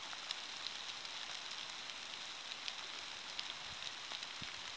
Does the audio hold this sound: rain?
yes